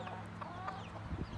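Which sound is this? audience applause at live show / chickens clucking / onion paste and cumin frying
chickens clucking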